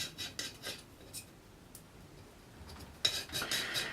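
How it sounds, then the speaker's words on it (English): A palette knife mixes filler compound on a board for fixing a sandstone house sign, giving faint, intermittent scraping and rubbing strokes, with quiet gaps and a louder cluster of scrapes near the end. "Mix it all together using a palette knife or a work knife."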